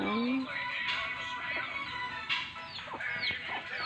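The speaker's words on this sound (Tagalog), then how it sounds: "yung mga alaga namin manok." Pet chickens cluck and call among fruit trees and coconut palms on a tropical farm, fairly close, with a few sharper squawks over steady outdoor background noise.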